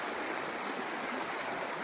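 Fast-moving stream water rushes in a continuous broadband roar, close and steady throughout, with no voices.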